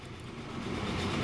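A train rumbles along steadily in the Transport Fever video game, a continuous broadband rolling noise growing slightly louder over a brief moment.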